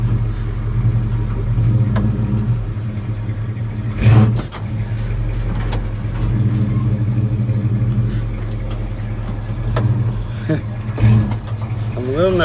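A 1970 Chevy C-10 pickup truck's engine runs steadily at close range, with a couple of brief clunks as it is put into gear, and someone talks over it.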